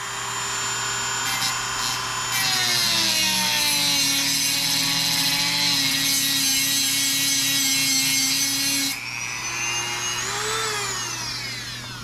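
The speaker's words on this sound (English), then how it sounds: "Just get you a Dremel, the nice little cutting edge, and slice it in half." A Dremel with a small cutting wheel slicing a block in half for an Arrma Outcast 6S RC car build, a loud high-pitched whine with shifting pitch as it bites, briefly easing near the end.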